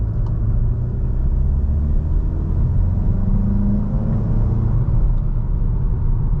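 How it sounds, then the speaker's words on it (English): A 2021 VW Golf GTI SE with a DSG gearbox accelerating uphill, heard from inside the cabin as a steady low engine rumble and road drone that holds evenly throughout with no speech. "we'll give it one little acceleration up the hill here, just to round the video off"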